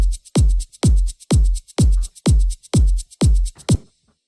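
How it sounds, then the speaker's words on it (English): A basic progressive house drum loop has eight punchy, booming kick drums on a steady four-on-the-floor pulse, each paired with a crisp shaker hiss. The loop plays alone and cuts off cleanly at the end. "I've created a basic kick and shaker loop,"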